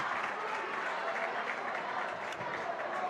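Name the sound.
basketball crowd clapping for player leaving game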